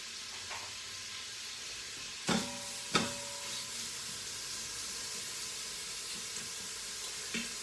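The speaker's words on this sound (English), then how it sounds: "So we got that sizzle going." Steady hiss of meat sizzling in a pressure cooker, broken by a couple of sharp metallic clanks and a stirring scrape.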